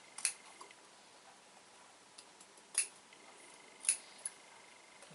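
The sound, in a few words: scissors snipping through fabric and lining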